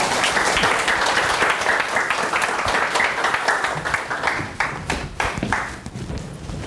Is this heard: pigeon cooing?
no